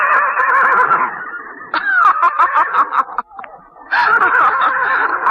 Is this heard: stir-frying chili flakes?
no